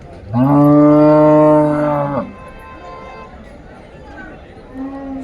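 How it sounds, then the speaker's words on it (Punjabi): A buffalo at the Rampura cattle market lets out one loud, close, drawn-out moo lasting about two seconds, followed by quieter market murmur and a brief fainter call near the end. "ਬਹੁਤ ਡਾਵਲ ਮੱਝ ਖੜੀ ਆ"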